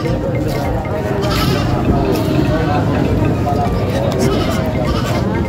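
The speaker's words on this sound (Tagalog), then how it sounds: "kambing na narito ngayon sa Padre Garcia" Goats bleat amid a dense crowd of voices and bustle at a livestock market, their calls mixed into a loud, continuous busy background.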